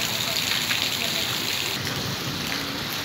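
Steady rain falls across a village in a close, constant broadband hiss without pause, with no speech heard over it.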